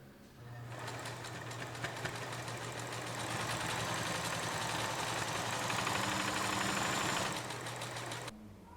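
A sewing machine stitches a seam on a simple fabric cushion, running steadily at a fast, even buzzing pace for about seven seconds, close and alone.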